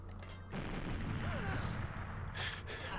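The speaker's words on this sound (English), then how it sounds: "Also, why the random explosion?" Explosion in the video game GoldenEye 007: a sudden low boom followed by a rumbling tail, then a sharper burst near the end, loud and alone without talk.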